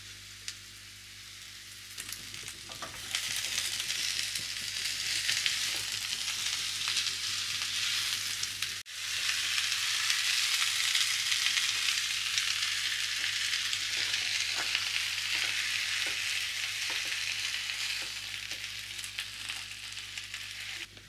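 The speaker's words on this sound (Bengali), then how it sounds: "এটা 3 মিনিট একটু কড়াইতে নেড়ে নিয়ে এরপরে এর মধ্যে দিয়ে দেবো আমি মেথি শাক" Fenugreek leaves stir-fry in a hot wok for methi paratha filling, a dense, loud sizzle that swells after a couple of seconds and holds steady, with faint stirring scrapes and no voices.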